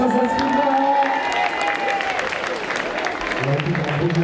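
Crowd applause and light cheering for a cosplay contestant dressed as Valka from Assassin's Creed at Japan Party 2023, steady and fairly loud, with a presenter's voice faintly over it.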